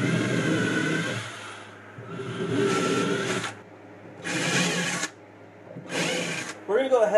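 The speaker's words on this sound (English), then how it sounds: "but we're going to be running the drill in reverse." A power drill running in reverse whirs in several bursts of a couple of seconds each, close by, with pauses between runs and some low background noise.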